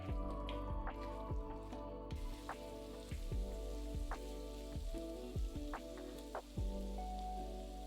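Chopped potatoes frying in a pan for a curry, giving a soft steady sizzle broken by intermittent pops and spits, close by and fairly quiet.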